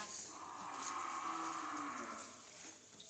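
A cow lets out one long, drawn-out moo, fairly faint, against quiet outdoor background noise.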